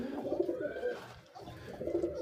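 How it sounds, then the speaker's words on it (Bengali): Pet pigeons coo continuously and fairly close, a soft low warbling that rises and falls with no talk over it. "এই যে দেখেন আমার সুন্দর কবুতরগুলো"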